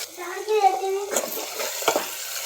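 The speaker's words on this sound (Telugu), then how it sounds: "ఈ రొయ్యలు నూనెలా గోలాలి" Prawns fry in hot oil in a pan, a soft continuous sizzle with stirring scrapes, while a voice is briefly audible near the start.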